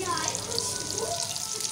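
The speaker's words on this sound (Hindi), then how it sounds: "ये हमारा जो है ये फ्राई होना स्टार्ट हो गया है।" Chicken wings frying in hot oil give a dense, continuous bubbling sizzle, close and steady, with a voice faintly present beneath.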